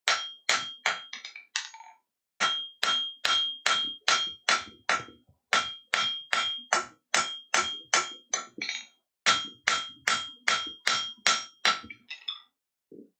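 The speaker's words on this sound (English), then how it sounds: "this is where I like to use the little rounding hammer because it draws out and back" A small rounding hammer forging a metal leaf on an anvil: rapid bright ringing blows in quick bursts of about five to ten strikes, separated by short pauses, close and loud with no talk.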